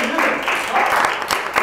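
A studio audience gives a married couple on a Turkish show a burst of applause, with clapping mixed under people talking.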